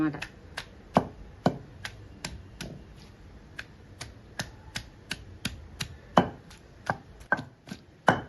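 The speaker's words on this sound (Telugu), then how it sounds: "ఇదిగో ఇలా పీసులు పచ్చపచ్చగా ఉండేలాగా ఇలా దంచుకోవాలి ఆనియన్స్ని" Onion pieces pounded coarsely for tamarind chutney, a quick run of sharp knocking strikes, irregular but steady, close and crisp, with a voice speaking softly in the background.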